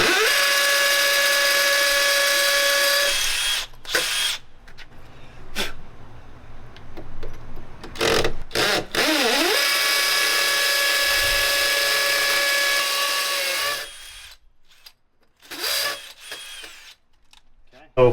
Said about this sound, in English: I got my drill and hammer mode